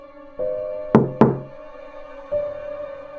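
Knocking on a door in a quiet night-time room, heard as two sharp knocks close together, then a single softer rap a moment later, over a steady low hum.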